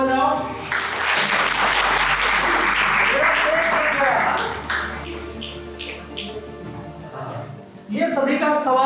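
Students applaud in a school classroom, a dense burst of clapping that swells for several seconds, fades, then returns, mixed with a teacher's talk throughout.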